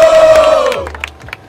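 A crowd at a rap battle roars loud and close in one short burst of cheering and shouting, which tails off quickly into scattered calls.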